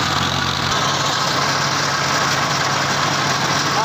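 An animal feed making machine powered by a 480 tractor runs steadily, a continuous loud engine drone with low vibration and no break across the whole stretch.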